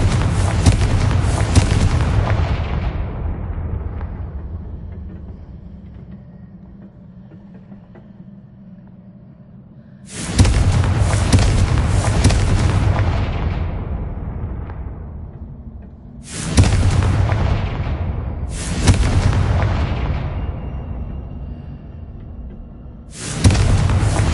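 Repeated Confringo blasting-spell explosions from the Hogwarts Legacy video game, four loud booming bursts with long decaying rumbles, the first lingering for several seconds before the next blasts strike in quicker succession.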